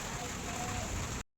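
Heavy rain mixed with hail pounds down on a rooftop during a strong windy storm, a dense, steady, loud hiss that fills the whole moment before cutting off abruptly.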